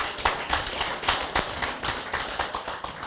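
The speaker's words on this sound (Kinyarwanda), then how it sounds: "Nitwakoma amashyi ariko" An audience claps hands at a women's community celebration in Vejle, Denmark: dense, continuous applause from many people nearby, steady and loud throughout.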